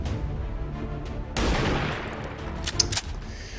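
A gunshot in XCOM 2 at a sectoid cuts in sharply as a single loud burst with a crackling tail, followed by a couple of brief sharp impacts and no voices.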